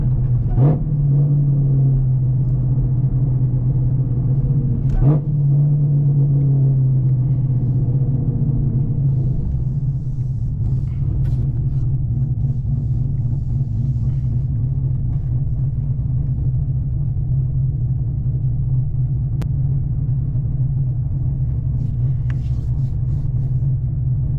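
A loud, steady low rumble of a nearby car engine runs throughout, with brief revving surges near the start and around five seconds, passing close by on the road.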